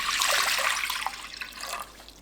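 Water is poured from a height for a soy sauce pickle brine for pumpkin leaves, a close, bright splashing gush that runs steadily and then tapers slightly by the end.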